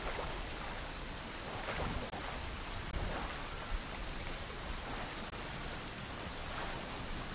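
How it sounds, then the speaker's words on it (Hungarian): Heavy rain pours steadily over an island forest in the survival game Sons of the Forest, a dense roaring hiss with low thunder rumbling underneath throughout. "Szakad az eső, és tök jó néz ki, hogy szakad az eső"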